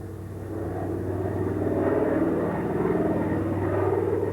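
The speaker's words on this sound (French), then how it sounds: "presque les mêmes bruits de moteur au-dessus de la baie de Rio" An aircraft engine drones over the bay of Rio de Janeiro, a steady low rumble that swells slightly at first and then holds, moderately loud and unbroken.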